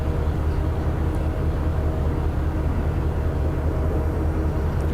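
A freight train rumbles steadily in an Open Rails simulation of a Union Pacific westbound manifest, a continuous low drone with faint rattling, close and even throughout with no talk over it.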